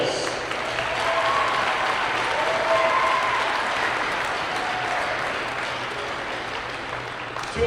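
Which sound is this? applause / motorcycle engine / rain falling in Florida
applause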